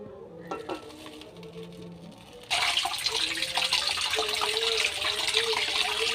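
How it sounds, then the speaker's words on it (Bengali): Hot water is drained off boiled chow mein noodles in a kitchen; after a quieter stretch of faint clatter, a loud, steady rush of pouring water begins midway and continues to the end. "এবার আমি পানিগুলো ঝেড়ে নেব।"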